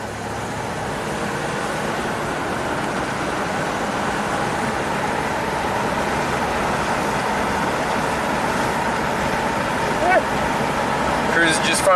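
A 1991 GMC Jimmy 4x4 with a V6 accelerating, a steady loud engine and road drone heard from inside the cab with speech over it.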